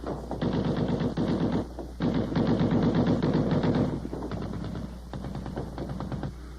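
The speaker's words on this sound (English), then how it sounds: "One weapon we'd get to know very well was the .50 caliber machine gun." A .50 caliber machine gun fires in long sustained bursts with a brief pause between them, loud and close, the rapid rounds running together into a continuous rattling roar.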